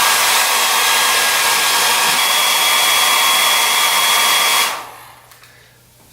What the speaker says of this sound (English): Now with my trusted hairdryer, we're just going to dry all this up.